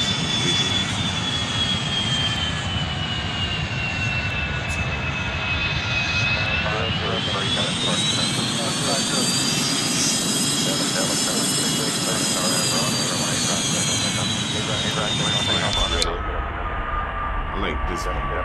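A continuous airplane engine drone from the flight simulator game Airline Commander, with a whining tone that slowly rises and falls, loud and steady before cutting off abruptly near the end.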